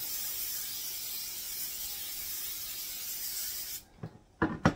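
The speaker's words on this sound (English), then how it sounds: "we have our 9x13 pan, and I'm going to give it a good spray." A steady hissing spray of cooking spray onto a 9x13 baking pan runs for several seconds, then stops, followed by a few light knocks and clatters nearby.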